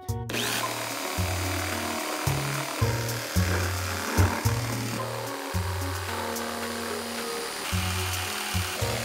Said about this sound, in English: Now, grab your jigsaw.